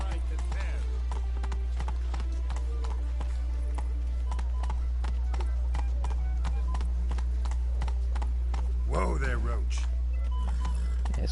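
Roach, a horse in The Witcher 3, gallops with steady clip-clop hoofbeats, loud and close, while game music plays and a voice speaks briefly.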